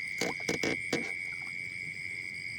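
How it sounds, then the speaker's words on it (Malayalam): Night-time chirping from crickets or frogs near water during a fishing outing, a few sharp bursts in the first second over a steady high-pitched insect drone, no voices. "പിന്നെ ചീവീടുകളുടെ സൗണ്ട്"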